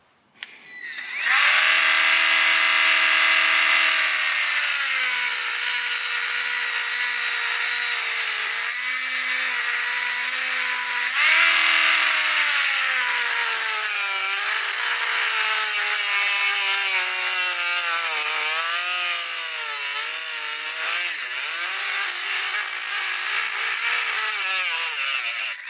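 A power driver with a flathead bit whines steadily against a screw on a vintage Honda CT70 mini trail bike, one long continuous loud motor tone that shifts pitch and wavers near the end.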